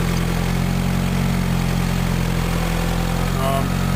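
Engine of a 1992 Eagle Talon running at a steady idle, a constant close low hum with a faint higher whine, no talking over it.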